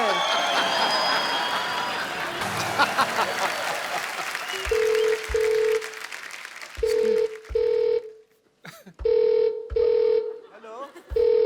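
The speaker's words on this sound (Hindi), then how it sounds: "हेलो, फोन आ रहा है" A telephone rings in a comedy sketch set at a doctor's, its repeating ring bursts arriving in a steady on-off rhythm after a noisy stretch of crowd applause and laughter, with people talking over the start.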